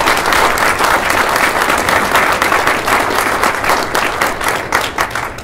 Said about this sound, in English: I want everybody to please give these folks one more round of applause